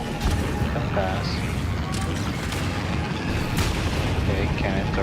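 Cannons fire in the video game DeathGrip, a dense barrage of booming blasts and crackling impacts rolling on without a break, loud and close, with a voice talking over parts of it.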